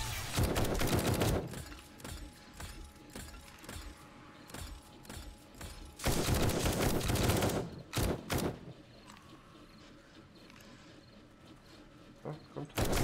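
Weapon gunfire in the 7 Days to Die video game: loud bursts of rapid shots at the start and around the middle, with quieter stretches of game sounds and occasional single shots between them.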